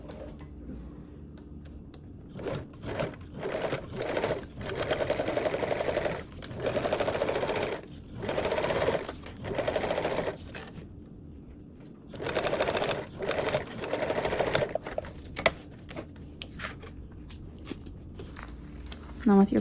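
A sewing machine top stitches a duffle bag panel at a 1/8 inch line, running in repeated short bursts with brief pauses between them. The whirring stays close and steady during each run.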